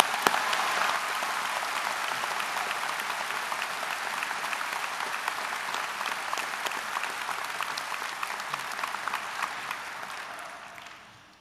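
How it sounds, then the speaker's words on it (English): Audience applause at a high school graduation ceremony for the class of 2008, steady dense clapping from a large crowd sustained for about eleven seconds, then fading out at the end. "I want you to give them one more round of applause for the job that they just did."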